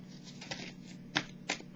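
Tarot cards slid and handled during a reading, giving soft papery rustling with two sharper flicks near the end, close-up and without speech.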